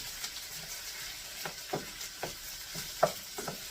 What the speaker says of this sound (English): let me give my potatoes a stir